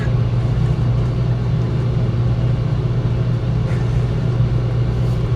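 A custom-built model train track cleaner with brush barrels runs its motor on a bench test, giving a steady, continuous low hum and rumble that holds even and close throughout without change.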